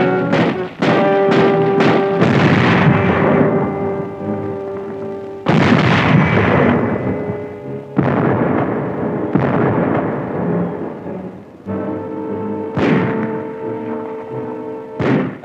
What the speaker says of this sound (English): The Nazis direct their fire across the harbor.